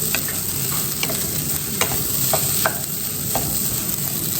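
White rice sautéed in oil in a pan, a steady close sizzle broken by scattered spoon scrapes and taps as the grains are stirred, with no talking.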